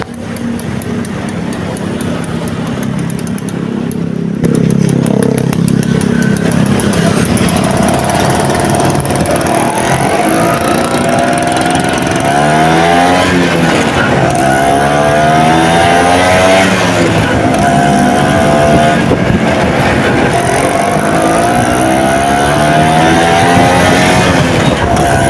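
A Vespa VBB scooter engine, standard with an upgraded larger crankshaft, runs loud and close, its pitch rising and falling through repeated revs over a steady idle.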